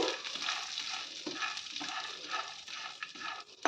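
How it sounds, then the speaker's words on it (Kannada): Dry fruits frying in ghee in a pan over a low gas flame, a steady soft sizzle with intermittent stirring scrapes and clicks, close and continuous with no talk. "ಈಗ ನಾನು ಡ್ರೈ ಫ್ರೂಟ್ಸ್ನೆಲ್ಲ ಫ್ರೈ ಮಾಡ್ಕೊಳ್ತಾ ಇದ್ದೀನಿ ಗ್ಯಾಸ್ ಸ್ಟವ್ನ ಸಿಮ್ಮಲ್ಲಿ ಇಟ್ಕೊಂಡು ಡ್ರೈ ಫ್ರೂಟ್ಸ್ನ ಫ್ರೈ ಮಾಡ್ಕೋಬೇಕು"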